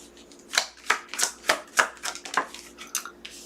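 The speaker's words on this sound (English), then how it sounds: "And you just heard me shuffle." Tarot cards are shuffled close up in a series of about a dozen crisp, separate riffling snaps with short pauses between them, with no talking.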